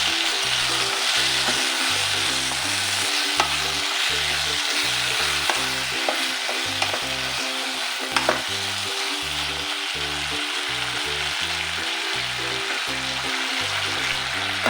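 Omena silverfish frying in a cooking pot for a Kenyan wet-fried dish, a loud continuous sizzle with crackling pops running steadily throughout, no talking.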